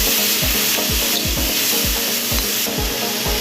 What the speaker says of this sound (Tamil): இன்னும் கொஞ்சம் எண்ணெய் சேர்த்துக்கலாம் ஏன்னா வெங்காயம் வந்து ஃப்ரை ஆகணும்